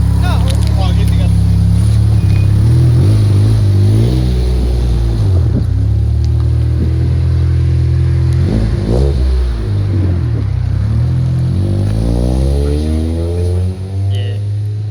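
An Infiniti G35 with an all-motor setup revving and accelerating up close, loud engine tones rising and falling through several pulls, with people talking over it.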